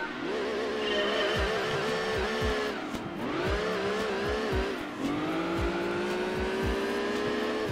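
Gran Turismo 2 race cars, including a Mines RX-7, an S2000, an NSX and Mines Skylines, roar with rising engine revs and gear shifts, a dense layered whine that fills the whole stretch.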